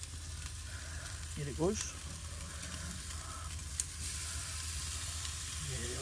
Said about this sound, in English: I want to turn these steaks while I'm out